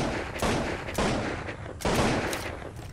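A semi-automatic gun in the Zed Zone video game fires four loud, sharp shots in quick succession, each cracking report followed by a short echoing decay, with no voices.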